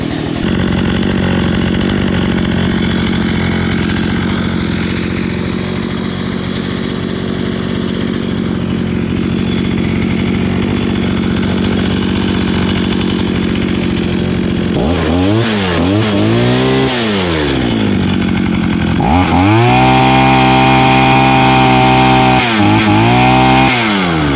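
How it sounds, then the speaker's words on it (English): A cheap 5-in-1 string trimmer's small two-stroke engine idles loudly and steadily, then revs up and down in several rising and falling surges near the end, with no talking. "So I'm going to let this thing warm up a bit, and let's see this thing rev up here in a little bit."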